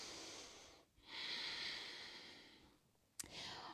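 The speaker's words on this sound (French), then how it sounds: "on inspire, on expire." Slow, deep yoga breathing, with a long airy inhale or exhale, a brief pause, then another sustained breath, close and soft, ending in a short sharp snort-like release.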